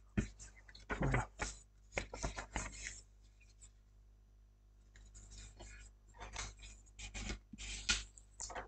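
Paper being creased by hand into folds, marking each fold before gluing: close rubbing and sharp scraping strokes in several bursts, with a quieter pause in the middle.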